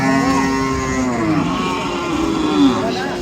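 A cow with a calf at a rural cattle market lets out a loud, close moo that stretches over about three seconds, with harmonic lowing rising and falling against a busy marketplace crowd.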